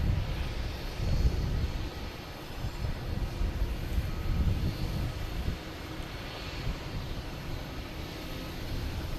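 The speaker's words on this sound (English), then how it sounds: "You have American here heading to Phoenix, an A321neo, flight 1850." An American Airlines Airbus A321neo jet at Boston Logan produces a steady, broad engine roar. It swells slightly and fades over several seconds and is heard alone, with no voices.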